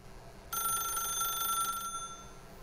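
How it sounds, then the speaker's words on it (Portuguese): A telephone rings with a continuous trilling bell tone for about a second and a half, fairly clear, then stops, leaving a quiet room. "Eu estou a ouvir o telefone já."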